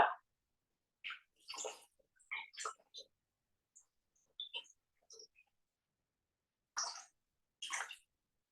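Water poured into the bowl of a Thermomix TM6 in a home kitchen, arriving as a few soft, short splashing bursts separated by quiet gaps, with faint clicks between them.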